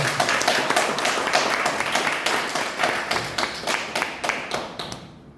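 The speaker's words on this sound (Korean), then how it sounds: "우리 강사님 나오실 때 박수 한번 주세요" A lecture audience gives a lecturer a warm round of applause, loud and close at first with dense overlapping claps, thinning into scattered individual claps before fading out.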